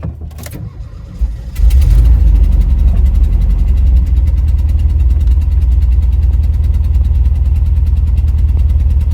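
A van engine cranks briefly, catches and settles into a steady, loud, rumbling idle heard up close.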